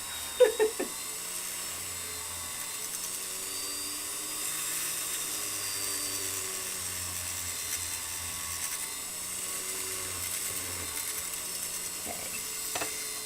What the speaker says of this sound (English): So here I'm just polishing, charged up the muslin wheel with some buffing compound.